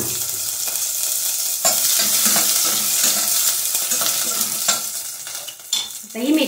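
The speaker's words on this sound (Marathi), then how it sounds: "तेल गरम झालंय, आपण लसूण आणि मिरची घालूया." Garlic and green chili hit hot oil in a pan for a fenugreek-leaf dish, giving a loud, continuous close-up sizzle with scraping stirs and a few sharper crackles.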